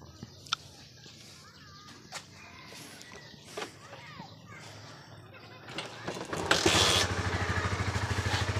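A motorcycle with a faulty electric push-button starter, kick-started and brought to a running idle, steady engine hum settling in after several mechanical clunks and scrapes, with talk heard over it.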